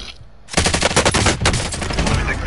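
Rapid automatic gunfire blasts out in a Warzone firefight as a player shoots at an enemy, a loud burst of closely spaced shots that keeps rattling for about two seconds after a quiet start.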